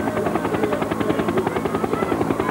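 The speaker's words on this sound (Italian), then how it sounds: "Siamo a Nicolosi anche con il nostro elicottero" A helicopter flies over the Giro d'Italia 2011 ninth stage, Messina to Etna, near Nicolosi in Sicily. Its steady, loud rotor chop pulses rapidly and evenly throughout, with no voices.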